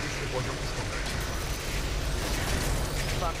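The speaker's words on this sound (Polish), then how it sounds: "A, wybuch." A rumbling explosion and mechanical clatter in the shooter Titanfall 2, a dense, steady roar of combat noise lasting the whole stretch, with a voice speaking over it.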